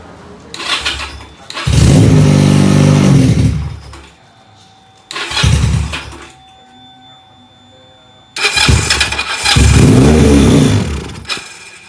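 A Benelli PE 250 FI motorcycle engine is started three times, each start rising into a loud, close idle that holds for a couple of seconds before cutting out, with quiet gaps in between.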